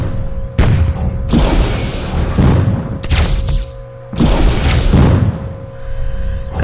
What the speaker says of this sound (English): very nice little missile there by TmG